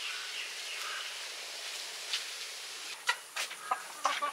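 Desi hens cluck in a few short, scattered bursts toward the end, heard fairly close against a steady hiss of insects and background air with no talking.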